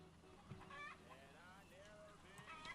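Chickens cluck and chatter in a series of short calls at moderate distance, with a faint low hum underneath.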